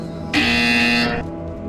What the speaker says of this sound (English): When you hear the buzzer, engage your atrophied neck muscles and look up at the ceiling.